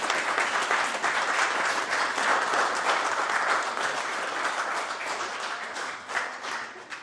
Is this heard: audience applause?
yes